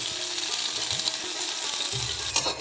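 Plantain and bitter gourd frying on medium heat for shukto, a steady soft sizzle with faint clicking and a spatula scrape near the end.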